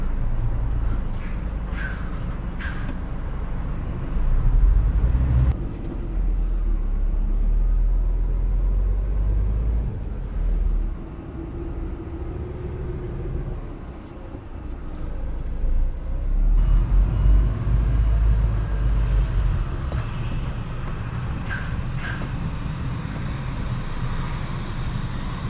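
A car driving at night with its wheels slipping on a slippery road, a continuous low engine and road rumble heard from inside, with scattered knocks and occasional high chirps over it.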